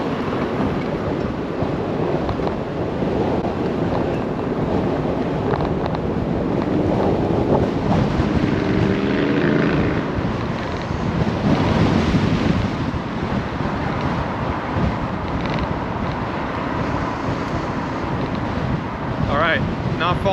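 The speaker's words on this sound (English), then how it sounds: "Really windy today. Gonna be putting these microphones to the test." Strong gusting wind buffets microphones outdoors on a city street, a loud continuous roar and rumble with surging swells, no clear talk over it.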